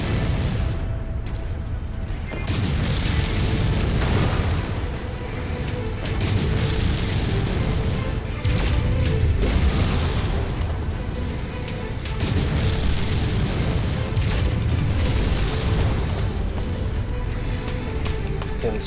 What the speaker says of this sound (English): Let's try to bombard this Warhammer.